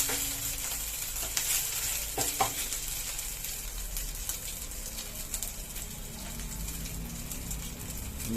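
Ginger cooking in a pan for sweet tomato chutney, giving a steady broadband sizzle with a few scraping stir clicks near the start, continuous and close throughout.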